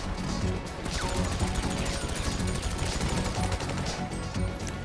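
Fireworks and gunfire in the GTA video game: dense, rapid bursts of bangs, cracks and crashes in a busy, continuous barrage.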